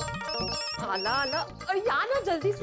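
A telephone rings with a steady electronic trill partly buried under loud, excited voices calling out over one another.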